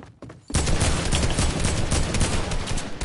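Dense, sustained assault rifle fire in a shotgun-focused duos shooter match, loud and close, erupting after a brief quiet start and rattling on continuously without pause.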